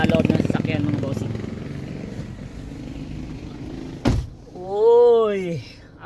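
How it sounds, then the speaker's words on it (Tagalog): A car door thumps shut once as someone gets into a car in hot weather, a short loud knock that follows a rumbling engine-like hum and is followed by a rising and falling whine. "Pasok tayo sa loob ng sasakyan mga bossing."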